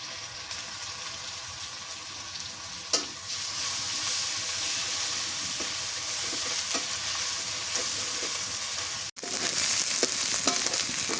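Garlic and onion paste frying in a pan gives a loud, steady, close sizzle. A couple of brief stirring scrapes cut through it, and there is a short break near the end before the frying resumes.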